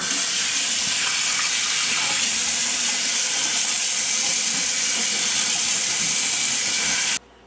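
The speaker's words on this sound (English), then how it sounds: "to wash these things, I'm just going to take the extension arm from the sink" A kitchen sink's extension sprayer rinses jalapenos in a loud, steady rushing hiss of water that runs unbroken before cutting off abruptly near the end.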